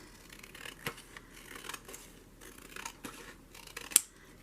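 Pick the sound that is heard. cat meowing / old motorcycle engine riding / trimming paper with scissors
trimming paper with scissors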